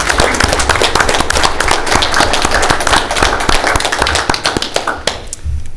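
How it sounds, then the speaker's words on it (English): A room at a council meeting fills with a round of applause: many close, uneven claps in a steady dense patter that thins out near the end. "Let's give them a round of applause."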